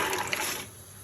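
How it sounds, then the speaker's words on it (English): Soaked peas and their water poured from a container into a cooking pot, a brief loud gushing splash that tapers off quickly, close by with no speech. "This is my peas that I already put to soak from like last night, so I'm gonna pour it out into the pot."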